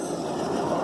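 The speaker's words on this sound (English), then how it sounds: "Listen to that noise that makes on them steel rails." A Blue Ridge Southern hi-rail vehicle following a train runs on steel rails, its wheels giving a continuous metallic rumble and grind, close and steady throughout the brief moment.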